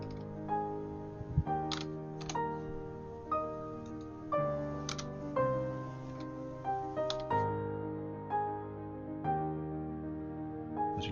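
Computer keyboard keys tapped in short bursts, soft clicky strokes spaced irregularly across the stretch, close and fairly quiet.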